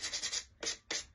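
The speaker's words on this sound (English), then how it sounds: "that's what your sanding block can be for" Sanding block rubbed over a painted wooden house decoration to clear excess chalk paint, giving several quick rasping scratch strokes in a row, close and moderately loud, with no talking.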